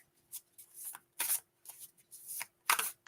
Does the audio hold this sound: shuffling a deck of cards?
yes